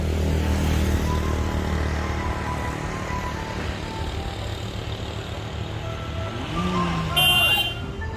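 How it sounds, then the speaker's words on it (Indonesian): A car strains up a steep hill road in a tea plantation tourist area, nearly rolling back; its engine drone blends with steady traffic noise throughout, with a brief rise near the end. "ada mobil yang tidak kuat tanjak tuh"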